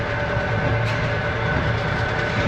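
An overnight passenger train running through Russia, a steady loud rumble of wheels on rails with faint rhythmic clicking, heard from inside the carriage with no talking.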